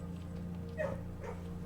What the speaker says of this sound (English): The dogs sound quite realistic.